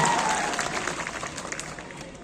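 Crowd applause from students at a PhysicsWallah Jammu Vidyapeeth event, a broad clapping wash starting strong and tapering slightly, with some crowd voices mixed in.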